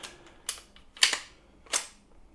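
A .22 bolt carrier group snaps with three sharp, close metallic clicks at uneven intervals, each one brief and crisp against a quiet background, with no talking.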